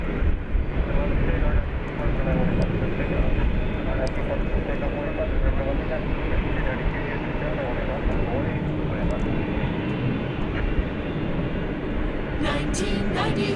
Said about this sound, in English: 31-year-old MD-11 freighter.